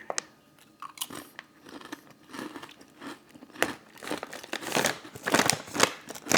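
Crispy deep-fried Chick-fil-A waffle fries are eaten up close, with repeated crunchy bites and chewing that grow louder and busier toward the end, alone without talk.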